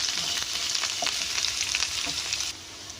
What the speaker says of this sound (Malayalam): അപ്പോൾ നമുക്ക് കടുക് ഇട്ട് കൊടുക്കാം.